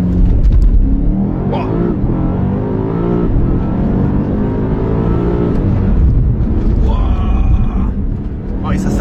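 A BMW M5 CS accelerates hard, its engine roaring loud and close with rising gear pulls and shifts, while an occupant exclaims over it.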